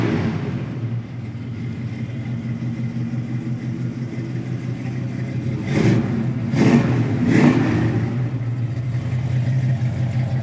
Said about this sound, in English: Great sound and exhaust.